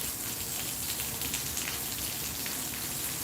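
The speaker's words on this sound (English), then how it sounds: "It's been raining a lot here in Central Florida." Steady rain falls outdoors at a lakeside park in Central Florida, a dense, close hiss of drops pattering on surfaces that continues evenly throughout.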